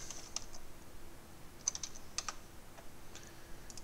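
Faint, irregular keystrokes on a computer keyboard tap out a short word, scattered clicks with small pauses in a quiet room.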